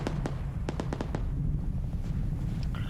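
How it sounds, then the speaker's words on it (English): A Javelin missile strikes a .50 cal gun in a military shooter game, heard as a cluster of sharp explosive cracks and pops early on, then rumbling battlefield ambience. "Javelin shot in the AO. Hits a 50 cal gun."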